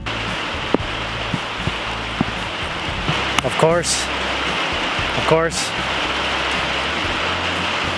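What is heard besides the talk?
rain falling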